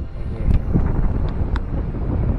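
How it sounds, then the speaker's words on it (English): Strong wind on an overcast hiking trail buffets the microphone in a steady low rumble, gusting slightly with no voices. "What was hot and sunny a minute ago is now overcast and very windy and ominous."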